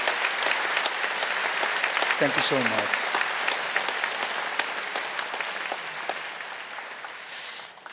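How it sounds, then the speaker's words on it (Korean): A church congregation applauds at a Sunday worship service, steady clapping running through the clip under a spoken thank-you, with a brief lower voice partway and a soft swell near the end. "여러분 크게 박수로 환영하시죠."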